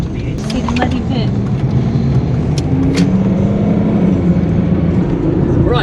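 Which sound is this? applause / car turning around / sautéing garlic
car turning around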